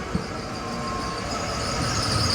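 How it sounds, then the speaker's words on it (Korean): A train pulls into a South Korean railway station ahead of a trip to Busan, giving a steady, close rolling rumble and rail noise that swells slightly over a couple of seconds. "기차 왔다 기차"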